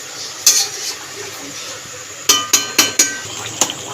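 A spoon stirs boiled, fried potatoes in a pan, giving sharp metallic scrapes and clinks: one early stroke, then a quick run of four or five strokes, over a soft frying sizzle with no talk.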